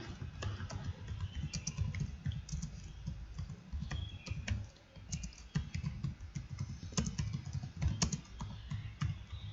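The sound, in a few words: typing on a computer keyboard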